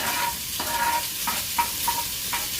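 Two large chopped onions hiss and sizzle in hot oil in a frying pan while cooking for chicken curry, with a spoon scraping through them in quick, repeated stirring strokes.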